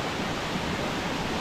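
Steady rushing roar of Laktas Falls in Dingalan, Aurora, a broad, even hiss of falling water, close and constant with no voices.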